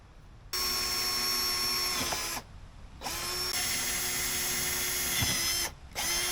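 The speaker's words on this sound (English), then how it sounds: "I carefully marked where I needed to drill the mounting holes" A power drill whirring through aluminum for mounting holes in three long bursts separated by short pauses, close and steady-pitched.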